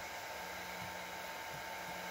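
A heat gun blows a steady, loud whoosh without pause from start to finish, held close while softening cured resin stuck on a 3D printer build plate.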